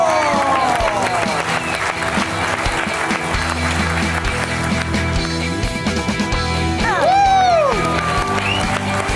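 Studio audience applauds and cheers as players head onto the court for a basketball show at a sports club, steady clapping with whoops over music and a few voices.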